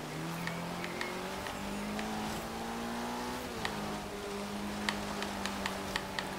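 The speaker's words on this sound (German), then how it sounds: "Hört sich an wie ein Rallye-Motor, wie eine Viper, also." The engine of an offroad-modified Dodge Dart GT in Forza Horizon 3 drones steadily with a rally-style tone, its pitch rising and falling through gear changes, with faint ticking clicks scattered over the constant engine note.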